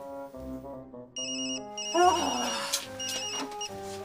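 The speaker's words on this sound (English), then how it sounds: "I dialed the number of the mill on the marsh." A telephone rings out after a number is dialed, calling a mill on a marsh; electronic ring tones repeat in short bursts, fairly close, with other sounds and a voice briefly mixed in.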